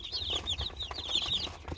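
Ross-708 broiler chickens around 40 days old cluck and chirp in a rapid, overlapping chorus in a poultry house, fairly close and steady throughout.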